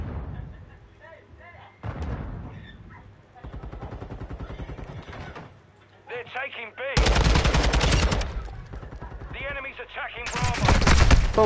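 Rapid automatic gunfire and shot bursts from Call of Duty MW2 ranked multiplayer, loud and dense in several stretches, with players talking between and over the shots.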